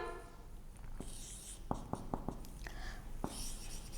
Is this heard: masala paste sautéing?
no